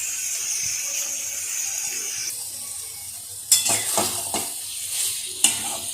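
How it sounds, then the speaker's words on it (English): Tomatoes and ground masala paste sizzle steadily in a pan for a liver and mutton stew, with a constant frying hiss joined by clattering scrapes of a spoon stirring against the pan. "Fry the tomatoes for 2 minutes"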